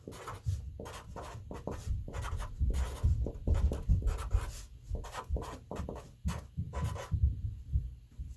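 Handwriting while working an algebra review: quick scratchy strokes and taps of a writing tool on paper in an irregular rhythm, close and fairly quiet, with no talking.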